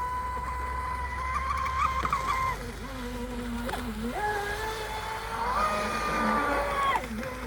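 Pro Boat Sonicwake V2 RC speed boat with its electric motor whining steadily, pitch rising and falling as it races and spins circles on water, heard from a short distance.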